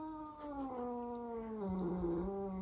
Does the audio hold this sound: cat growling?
yes